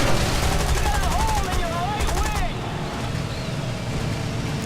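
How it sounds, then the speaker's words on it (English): Machine-gun fire from an aircraft's rear gunner in War Thunder, a rapid rattling burst of shots over steady engine and wind roar, with a voice briefly talking over it. "See, my gunner's putting some hits on him."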